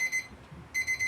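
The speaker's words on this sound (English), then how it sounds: "Timer's all done." A kitchen timer beeps in quick high-pitched bursts, a group of beeps, a short pause, then another run of beeps, loud and close in a quiet kitchen.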